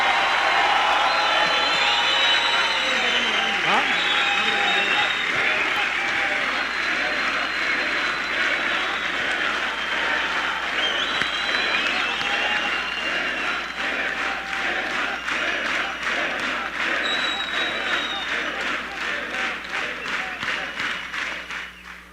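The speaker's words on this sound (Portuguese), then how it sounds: "A salva de palmas que eu peço não é para mim, para o meu discurso, para ninguém." Audience applauding at the close of a political speech for the Curitiba campaign, dense sustained clapping with crowd noise and cheering, steady then gradually thinning toward the end.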